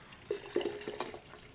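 Infused hot buttered rum is poured from a container, giving a short, close series of liquid splashes and trickles that lasts a little over a second.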